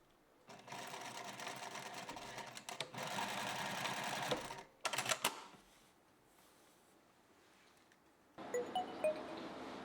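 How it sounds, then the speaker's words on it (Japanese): A sewing machine stitches the left side seam of a skirt made with scalloped lace, running in two sustained bursts with a short pause between them. Brief handling clicks follow, then quiet, and a final short stretch of machine noise closes. "左脇のみゴム通し口を開けて縫います。"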